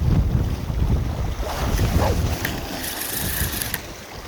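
Wind gusts across open sea around a fishing boat off Geumodo, a rushing roar with buffeting on the microphone and faint lapping water underneath.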